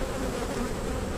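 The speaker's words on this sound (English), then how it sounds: "It's full of bees." Honey bees buzzing inside an open hive during a spring inspection, a dense steady hum filling the whole moment, close and even with no voices.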